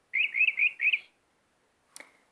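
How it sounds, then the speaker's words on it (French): Electronic bird chirps from a Fisher-Price bilingual activity table toy: four quick bright tweets in a row, followed by a short click after a pause, clean and close with no voices. "Un oiseau."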